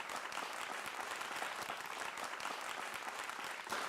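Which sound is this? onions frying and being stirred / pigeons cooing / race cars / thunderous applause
thunderous applause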